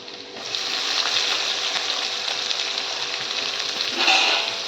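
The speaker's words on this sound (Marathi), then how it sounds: "लसूण भाजलं की चांगलं कांदा टाकायचा आपल्याला" Onion and garlic fry in hot oil in a pan, a dense continuous sizzle that swells after a quiet start, with a brief louder stir near the end; no one speaks.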